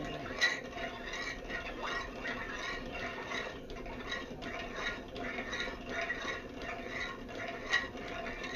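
A ladle stirs a cooking pot that is heating toward a boil, making faint, repeated scraping clinks against the metal over low background noise, with murmured sounds underneath.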